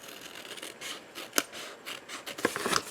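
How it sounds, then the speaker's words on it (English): Scissors snip through paper in a few crisp cuts, with soft rustling between the sharp blade closes, close by and alone. "open the scissors, close them, open them, and as you're closing, turn the paper"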